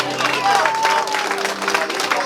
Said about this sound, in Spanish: Así que se escuchen fuertes los aplausos para los novios hoy en esta noche.